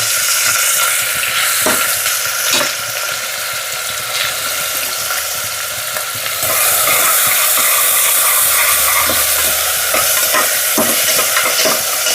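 Onion frying in oil with chilli and whole spices in a small pressure cooker, a steady close crackling sizzle with scraping stirs that grows louder about halfway through, no voices.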